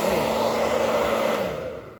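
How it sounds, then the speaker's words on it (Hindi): A handheld hair dryer blows hot air in a steady, loud whooshing roar with a constant motor whine, running continuously for about two seconds before cutting off abruptly at the end. "इस हेयर ड्रायर से मैं बालों को ना मैं करूँगा कंघी"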